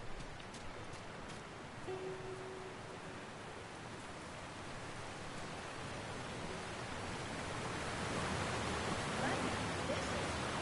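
River water flows in The Last of Us near a hydroelectric plant, a steady, even rush of moderate loudness that swells gradually toward the end.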